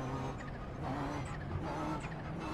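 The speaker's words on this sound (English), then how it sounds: "The old wastegate whistle." A Ferrari GTE race car in the iRacing sim gives off a faint wastegate whistle, thin high tones rising and falling over a steady engine drone, heard quietly and without talk.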